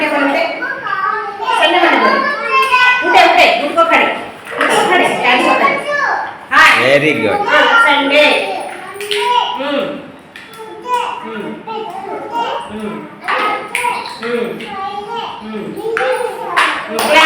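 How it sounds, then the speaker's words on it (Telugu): A group of school children claps in scattered, uneven bursts, close and lively, mixed with children's chatter and an adult voice speaking over them. "క్లాప్స్ కొట్టండి అందరు కొట్టండి క్లాప్స్ కొట్టండి"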